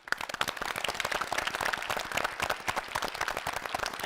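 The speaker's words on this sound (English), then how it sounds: "who also deserve a big round of applause" Audience applauding school teams and their English teachers at a student competition event, dense steady clapping filling the room throughout, loud and sustained with no voices over it.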